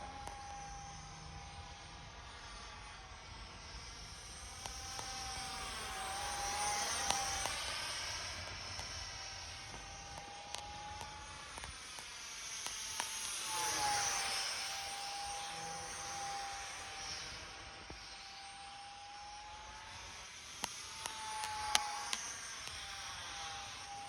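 A foam board F-18 model jet with an electric ducted fan makes a slow flyby, its whooshing whine swelling and fading as it passes overhead, at moderate distance.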